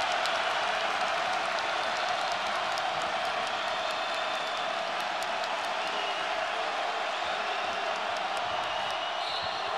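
A basketball arena crowd roars with sustained cheering and applause, loud and continuous from start to finish, with the thud of a bouncing ball faintly audible underneath.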